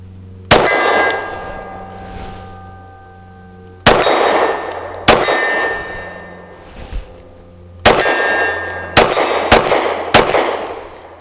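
Loud, sharp pistol shots from a Walther P99 AS fired at a torso target about 23 yards away outdoors, six cracks with ringing tails, spaced irregularly and coming quicker toward the end.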